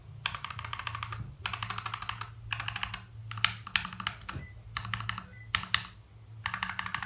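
Typing on a mechanical keyboard whose linear switches have a scratchy, gritty feel: bursts of dense, close clicking separated by short pauses, with a low hum underneath and no speech.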